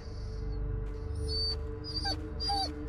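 A dog in the video game Blair Witch whimpers in pain, several thin high whines and yelps spread over a few seconds against a low rumbling game background.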